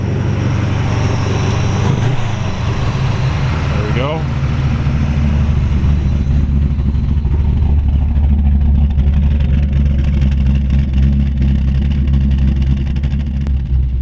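Engine of a 1929 Ford Model A pickup street rod running close by, a loud, steady idle with a brief rev, while someone talks briefly over it.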